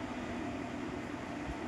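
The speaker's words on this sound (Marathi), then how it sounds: "ट्रेन हल्लू झाली." A Mumbai local fast train rumbles as it slows near Borivali, a steady enclosed hum and rattle heard from inside the carriage, fairly quiet with no talk.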